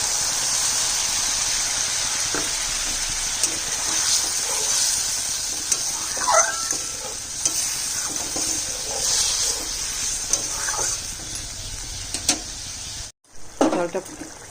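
Water poured into a pan of sizzling fried spice masala with fish, giving a continuous loud hiss and bubbling crackle with brief stirring clatters near the end.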